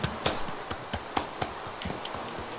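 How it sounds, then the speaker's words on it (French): Sparse, scattered hand claps from a small group, a few sharp slaps spaced unevenly and fairly close, with no voices over them. "Bravo, bravo. Applaudis."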